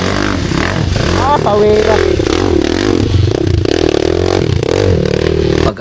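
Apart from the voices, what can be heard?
motorcycle engine revving during enduro ride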